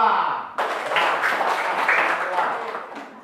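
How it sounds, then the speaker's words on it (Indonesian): A brief voice opens, then a group of classmates in a classroom breaks into dense, close clapping for group 2 that holds steady and tapers slightly by the end. "Beri aplaus untuk kelompok 2."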